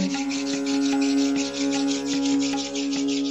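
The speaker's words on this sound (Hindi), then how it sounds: "अपने हाथों को रब करेंगे" Hands rubbed together during a guided meditation, a steady rhythmic rasping rub repeating quickly and close by, set against a sustained tonal drone, with no talking.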